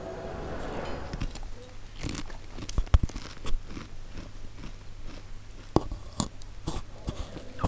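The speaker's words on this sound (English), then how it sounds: "when I crunch Doritos, it's a bit loud on the microphone" Doritos chips crunched close to a microphone, giving repeated sharp crackling bites and chewing bursts over a steady low background hum, with a few louder snaps standing out.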